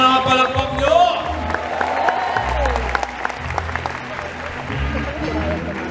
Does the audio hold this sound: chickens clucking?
no